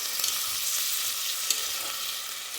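Chopped tomato sizzling in a frying pan for a South Indian Chettinad chicken dish, a steady close hiss of frying oil with a faint tap near the middle.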